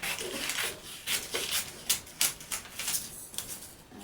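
Scissors cutting through a paper sewing pattern for a sleeveless corset top, a steady run of close, crisp snips and rustling paper in an uneven rhythm, with no talking.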